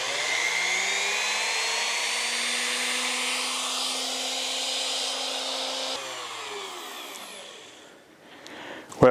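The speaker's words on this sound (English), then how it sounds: "I've got a router here" A router runs steadily, powered from an Oukitel P2001 portable power station, as a loud, continuous high whine that changes pitch at about six seconds and winds down near the end.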